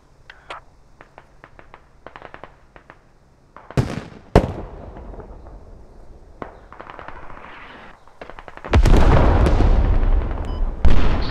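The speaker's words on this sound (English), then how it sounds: "I'm sending a hell cannon now" Hell cannon artillery in the video game Squad fires and explodes, several sharp booming blasts among lighter cracks of gunfire, ending in a long loud rumbling detonation, with no talking.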